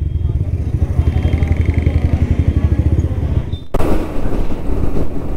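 A Yamaha R15 V4 motorcycle fitted with an aftermarket exhaust idles with a loud, rapid, even thumping pulse nearby, then gives a sudden sharp throttle blip into a rougher, louder roar.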